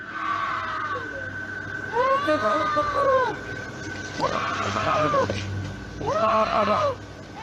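A woman screams and cries out repeatedly at night, four drawn-out wailing calls spaced across the stretch, loud and strained over a steady low background hum.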